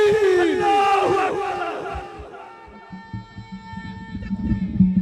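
A large crowd at a Khatm-e-Nubuwwat religious conference in a Gujranwala stadium answers with a loud, echoing chant, following a single voice's drawn-out call that rings over the venue's sound system.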